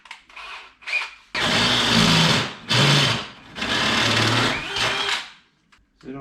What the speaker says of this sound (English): No, it's on the drill. Why did it sound like a hammer?